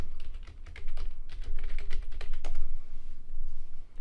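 Rapid keystrokes on a computer keyboard clatter over a low rumbling room background, the clicks fairly close and continuous, with no one speaking.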